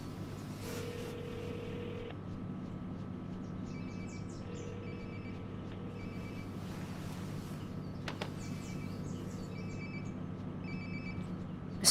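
Phone ringtone repeating in short bursts in the video game Life is Strange: Before the Storm, sounding at moderate level over a steady low ambient hum, with a few brief chirps between rings.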